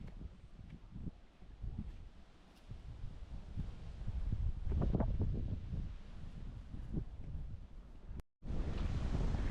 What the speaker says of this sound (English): the astonishing amount of wind that is blowing right now